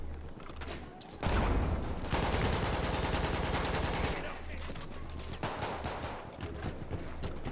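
Rapid automatic gunfire in a first-person shooter video game, a loud sustained burst of shots lasting about three seconds, bracketed by quieter game ambience with low rumbling.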